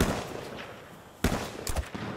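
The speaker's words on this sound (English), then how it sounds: "I'm drawing fire from the top of the mountain right now" Gunfire in the video game Hat Trick Night: a sharp shot crack cuts in after a stretch of dim background noise, followed by a few quicker, softer bursts at moderate distance.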